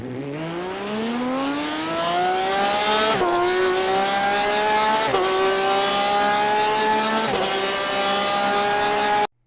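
Porsche RSR race car in iRacing accelerating hard, its raspy engine note climbing through the revs with three quick gear changes that each drop and re-climb the pitch. The sound is loud and close, and it cuts off abruptly at the end.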